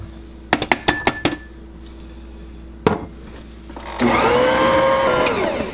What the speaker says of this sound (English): I'm using a Bosch Universal Plus mixer, and I have cookie paddles attached